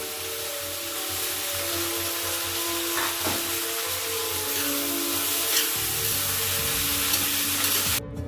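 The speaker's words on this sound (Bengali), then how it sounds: "পেঁয়াজগুলো যখন ভাজা চলছে" Chopped onions fry in a kadai with a steady, close sizzle and occasional stirring scrapes, continuous and moderately loud with no voices.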